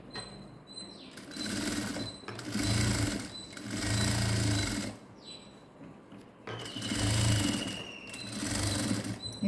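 A sewing machine stitches a folded blouse hem in three sustained runs separated by short pauses, its motor whirring loud and close with steady needle chatter.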